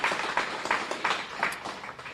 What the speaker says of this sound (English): So let's give them a round of applause and thank them for making that happen.